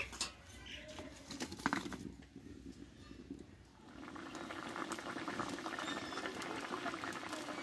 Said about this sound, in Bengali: কিছুক্ষণ আমি আলুটা একটু সিদ্ধ করে নেব।